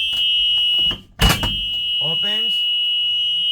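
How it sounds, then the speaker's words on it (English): A school bus emergency exit buzzer drones as a loud continuous electronic tone, cut briefly by a heavy clunk of the door opening, then resumes while someone speaks over it. "I can hear the buzzer"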